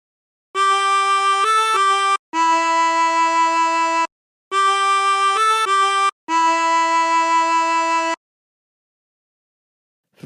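A 16-hole tremolo harmonica plays the opening phrase of Silent Night as loud, reedy sustained notes with a shimmering waver, two groups of held tones split by a short pause, then silence.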